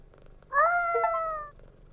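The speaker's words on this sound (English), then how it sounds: "Petted the cat." A cat in a video game responds to being petted with a single short, tonal meow-like call lasting about a second, heard clearly and alone in a quiet scene.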